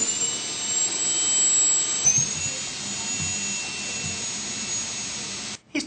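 Cooling fan of an Nvidia FX 5800 graphics card giving a loud, steady high-pitched whine like a small jet engine, sustained for several seconds before cutting out briefly at the end.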